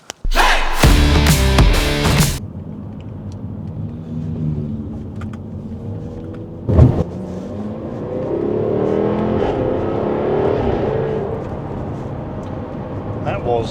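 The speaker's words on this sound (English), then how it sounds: "That was a worrying clunk that came from the gearbox there when I downshifted." A car drives along with a steady engine rumble. After a loud voice at the start, a single brief clunk from the gearbox sounds on a downshift, followed by the engine rising again.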